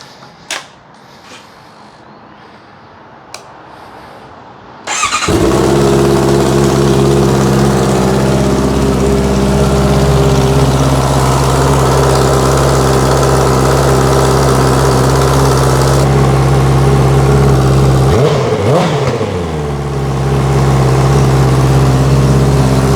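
After a few quiet clicks, a 2024 Honda CBR650R motorcycle with an Akrapovic racing exhaust starts up and idles with a loud, deep, throbbing exhaust rumble, briefly revving near the end.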